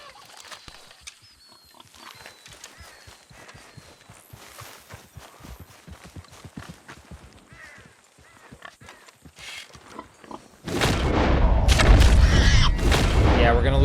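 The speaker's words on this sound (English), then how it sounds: "we're gonna kill at least 2 of these pigs" Pigs in Red Dead Redemption 2 give scattered grunts and snorts amid soft hoof and footstep sounds, followed by a sudden loud, dense burst of noise near the end.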